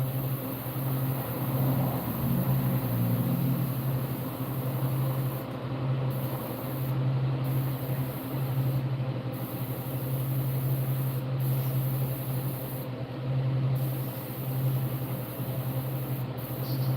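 An airbrush sprays paint onto a largemouth bass model, giving a continuous close hiss broken by short pauses, over a steady low compressor hum.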